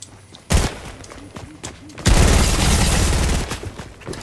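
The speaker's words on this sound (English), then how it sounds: "I shoot him." Gunfire from Fortnite, the video game: one sharp shot rings out, then a dense, loud volley of rapid shots goes on for over a second before it tapers off.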